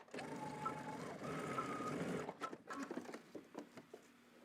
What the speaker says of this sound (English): I'm gonna go ahead and do a couple of rows of zigzag stitches.